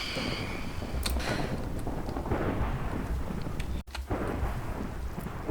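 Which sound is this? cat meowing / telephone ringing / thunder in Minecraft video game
thunder in Minecraft video game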